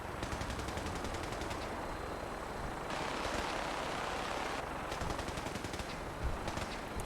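Sustained automatic gunfire in Fallout, dense rapid bursts firing continuously at a steady loud level for several seconds, with no talk over it.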